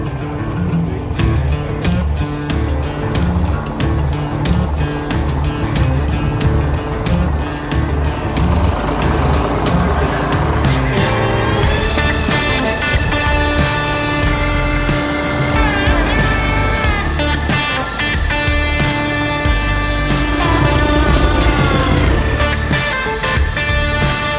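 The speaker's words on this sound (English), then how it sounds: "I'm not sure if you could hear me or not over the tractor noise" A loud, steady tractor engine drones continuously at close range, with rattling and clanking layered over its rumble.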